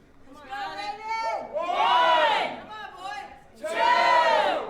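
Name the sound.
crowd cheering at slap fight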